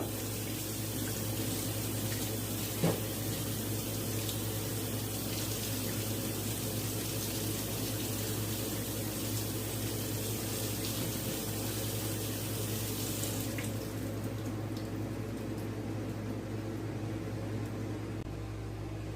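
Tap water running into a sink to rinse beans in a colander before canning: a steady, loud hiss of flowing water lasting about fourteen seconds before easing to a quieter trickle, with no talking.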